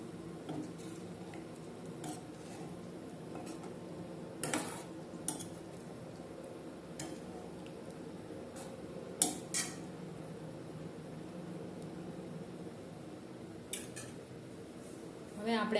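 A spoon scrapes and clinks around a pot of village-style Kathiyawadi dhokli vegetable curry with buttermilk, giving faint, scattered stirring knocks over a quiet background.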